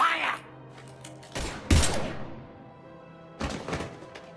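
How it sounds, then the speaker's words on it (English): Gunfire in the video game Mass Effect 3, a few heavy booming shots and thuds in separate bursts with reverberant tails, loud and close, with voices speaking around them. "Now open fire!"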